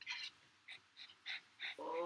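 A dog gives a few short, high, faint whimpers in quick succession, fairly quiet and close, ending in a slightly longer whine.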